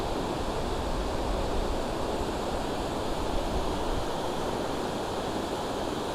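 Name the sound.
river water flowing near hydroelectric generator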